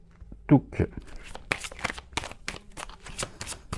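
Tarot cards riffled and shuffled by hand, a dense run of crisp papery flicks and slaps close up, with speech heard around the card handling.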